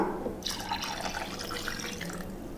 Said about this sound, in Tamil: இப்போ இது கூட ரெண்டு கப் அளவுக்கு அரிசி கழுவிய தண்ணியையும் சேர்த்துக்கலாம்